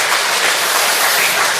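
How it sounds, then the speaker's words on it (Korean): Church congregation giving loud, continuous applause after a hymn, a thick, even roar of clapping filling the room with no distinct individual claps. "우리 가브리엘 찬양에 대해서 다시 한번 박수로 영광 돌리겠습니다"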